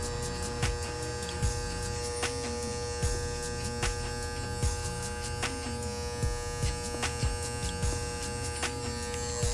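Electric hair clippers buzz steadily while cutting a low skin fade, a close, constant motor drone broken by faint rhythmic clicks and strokes, with nobody speaking.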